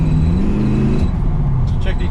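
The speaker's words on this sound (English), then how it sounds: "Motor's pulling pretty good." Truck engine pulling steadily under acceleration on a straight road, with a continuous low drone heard from inside the cab and a person talking over it.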